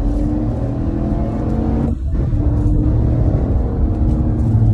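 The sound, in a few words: 2021 Chevrolet Tahoe LT accelerating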